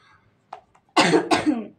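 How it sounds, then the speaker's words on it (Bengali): A person coughs a few times at close range, with two loud, rough bursts following a couple of faint small ones, and no speech alongside. "আর আমার কাশি হয়েছে"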